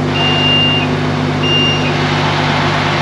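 A construction crane's load warning alarm gives two short, high electronic beeps spaced apart over a steady engine hum, signalling a moderately heavy lift that is still short of its limit.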